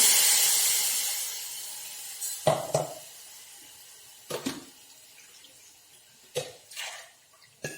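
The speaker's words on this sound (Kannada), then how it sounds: "ಈಗ ಬೀಸಿದ ನೀರು ಹಾಕೋಣ." Ground paste water is poured into a hot tempering pan with cumin and sesame for a tambuli, giving a faint hiss that fades, then several short sizzling clatters scattered through the quiet.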